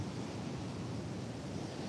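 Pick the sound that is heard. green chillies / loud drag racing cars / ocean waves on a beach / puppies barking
ocean waves on a beach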